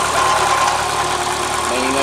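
A Ford EcoSport engine idles loudly and steadily, with a rough mechanical whine and knocking rattle from a failing water pump bearing running through it, close up.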